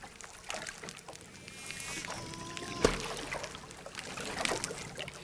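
Dolphins kerplunking in shallow seagrass beds at Shark Bay produce a sharp, percussive underwater pulse, one loud splashy thump near the middle amid faint sloshing water, with thin tonal whistles drifting just before it.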